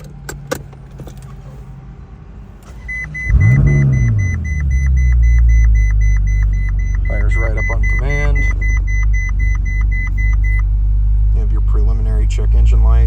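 A 2010 Ferrari California, with a key jangling just before the engine cranks and fires, a loud rising roar that settles into a steady deep idle punctuated by dash warning chimes, while people talk over it.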